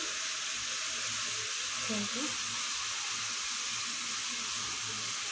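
Fenugreek greens fry with potato in a pan, giving a constant broad hiss like running water, with a voice speaking briefly beneath it.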